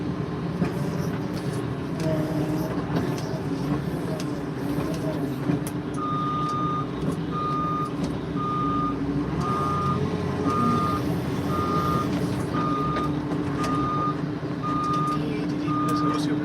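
A farm vehicle's reversing alarm repeats steady, evenly spaced beeps over a constant engine rumble and background noise outdoors on a farm, the tone holding for about ten seconds.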